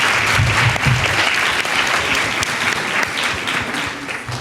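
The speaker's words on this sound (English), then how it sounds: "Please give yourselves a round of applause for coming out today." An audience of students and guests at a June 16 Youth Day debate at the Apartheid Museum claps loudly in a dense, sustained round of applause that thins slightly toward the end.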